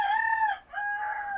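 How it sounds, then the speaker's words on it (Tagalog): A rooster crows nearby, loud and clear, in two long drawn-out calls separated by a brief dip, with no talking. "sensya na kayo sa manok ha, timing yung manok eh"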